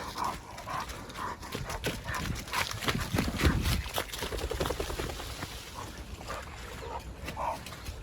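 Arlo, a prey-driven dog fixed on ducks by the water, gives a series of short, repeated vocal bursts over a steady outdoor background, fairly close and moderately loud.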